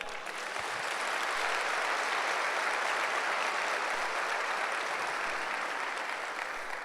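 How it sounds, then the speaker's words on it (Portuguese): Sustained applause from a church congregation during a Sunday service, a dense, steady wash of clapping that holds at an even level from start to finish with no voices on top. "Dá um aplauso a Ele."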